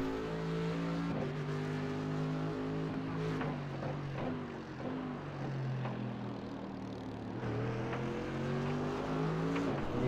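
GT race cars lap the Nurburgring in a Blancpain Endurance Series race, several engines droning and shifting pitch as they pass, a steady distant roar with gear changes rising and falling.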